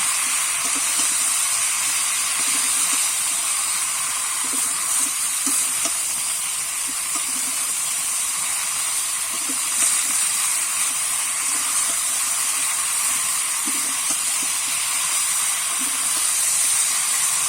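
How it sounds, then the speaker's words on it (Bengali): Grass carp curry spices with turmeric powder sautéing in a pan, giving a steady close sizzle and hiss with faint stirring scrapes throughout, no voices. "এইভাবে আমি কিছুক্ষণ কষতে থাকবো।"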